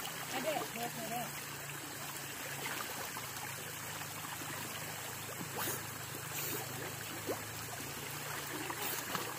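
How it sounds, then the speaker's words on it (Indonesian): Continuous rushing of the Mangkil river, water trickling and splashing as someone bathes in it, steady and close under an even outdoor hiss. "mandi di air Mangkil, di sungai Mangkil"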